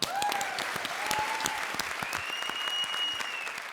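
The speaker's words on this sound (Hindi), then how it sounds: "जोरदार तालियां।" An audience at a stand-up comedy show breaks into steady, dense applause, many hands clapping continuously at close range with music tones sounding faintly alongside.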